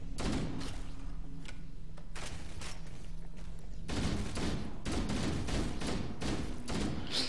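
Sustained bursts of assault rifle fire from Halo 1 on Legendary, set in The Library level, rattling in repeated volleys with short gaps and heavy thumping impacts throughout.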